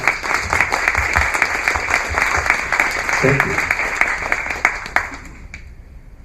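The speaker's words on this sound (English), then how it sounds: "give them a round of applause" Audience applause for veterans at a talk: sustained, loud clapping from a crowd with a steady hiss of many hands, a brief voice speaking partway, then the clapping cuts off sharply near the end.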